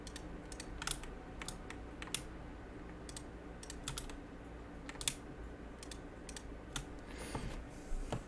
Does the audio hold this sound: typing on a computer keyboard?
yes